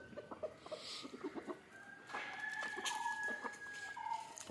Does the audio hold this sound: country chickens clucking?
yes